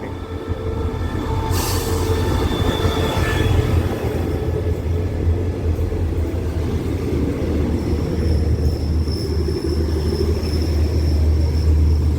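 Train pulling into a station, a loud continuous rumble of wheels on rails with a brief squeal near the start and a faint high whine later, steady throughout.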